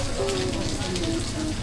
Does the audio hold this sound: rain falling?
yes